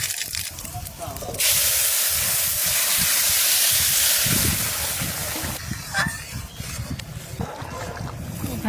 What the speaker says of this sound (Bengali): শুকনো খোলা একটু তেজপাতা আর জিরে ভেজে দেবো